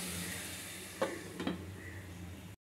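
Mushrooms fry with spices in oil in a pan for a mushroom dal, giving a soft, steady low sizzle with two brief stirring scrapes before the sound cuts off.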